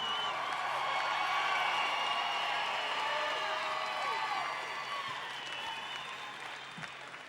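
An audience claps for an Army specialist being honored at a wounded heroes' ceremony, a dense wash of applause with a few whistles and cheers, gradually tapering off over several seconds.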